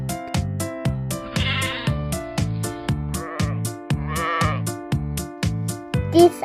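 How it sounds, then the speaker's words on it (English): Sheep bleating in a few drawn-out, quavering calls over a steady, bouncy musical backing, with the farm animal clearly in front of the beat. "This animal name is sheep."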